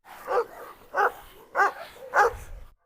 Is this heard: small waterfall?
no